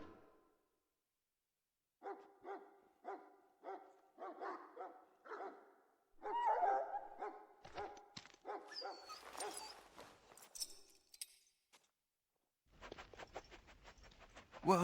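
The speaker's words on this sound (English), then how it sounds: "Now I can treat the dog properly, poor fella." A dog in Dragon Age: Origins, a fantasy video game, gives a steady run of short, moderately loud barks and whimpers, followed by a burst of sharper noises and then a harsher, rapid patch.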